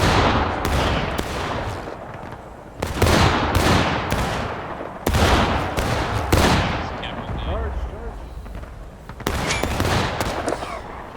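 Musket volleys in the War of Rights video game, fighting in the West Woods: repeated loud ragged bursts of massed rifle fire, with crackling scattered shots between the volleys.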